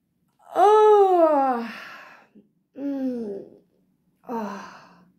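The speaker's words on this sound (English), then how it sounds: "Fake yawn. Let's do it together." A voice does three drawn-out, breathy yawning sounds, the first long and loud, the next two shorter, separated by brief silences.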